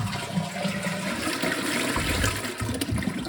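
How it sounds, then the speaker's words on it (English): A toilet flushes after a plumbing repair on an old cistern: a close, continuous rush of gushing and draining water fills the short stretch without any talking. "I'd say that's only a half flush though"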